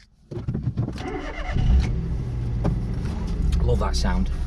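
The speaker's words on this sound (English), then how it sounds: "The Aygo C1 fires up, brilliant sound." A Citroen C1's small engine cranks briefly and catches, settling into a steady, close idle hum, with a voice speaking over the start.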